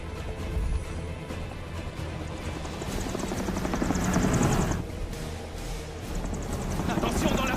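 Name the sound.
helicopter flying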